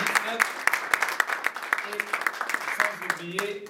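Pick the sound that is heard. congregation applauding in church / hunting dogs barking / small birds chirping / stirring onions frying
congregation applauding in church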